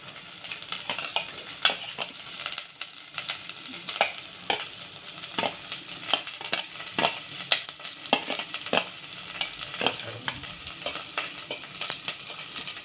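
Finely chopped ginger frying in hot oil for a goat meat curry, with a steady close sizzle and repeated scraping stirs of a utensil against the pan throughout, with no speech.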